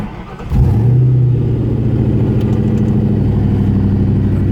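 A Ford Mustang V6 with its check engine light on cranks and catches after a brief moment, then settles into a loud, steady, rumbling idle close to the listener.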